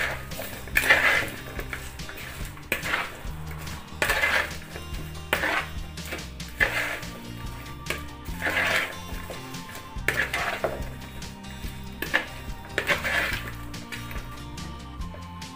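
Cucumber salad with sesame seeds tossed in a bowl, with a steady run of clinking and scraping as a utensil works through it, strokes recurring roughly every second, close and moderately loud, with no talking.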